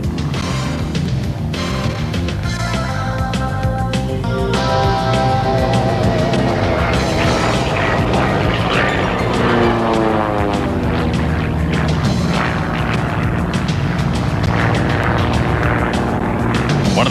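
Formation aerobatic aircraft performing at the Portland Rose Festival airshow, a continuous loud engine drone with shifting tones as the planes pass, steady throughout without talk.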